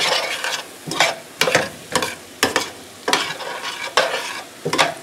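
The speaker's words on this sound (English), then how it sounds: "Now we just got to cook the flour taste out of the flour." Flour being stirred into a hot pan to cook into a roux for coq au vin gravy, repeated loud scraping strokes over a continuous sizzle, no voices.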